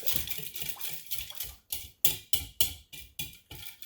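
Small amount of beef jerky marinade stirred in a small bowl, a spoon clinking and scraping in a steady, quick rhythm of about a dozen close, sharp ticks, no talking.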